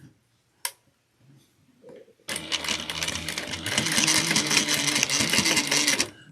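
A sewing machine stitches a clutch wallet with a steady, fast mechanical rattle that starts abruptly after a few quiet taps and handling noises, running loud and continuous to the end.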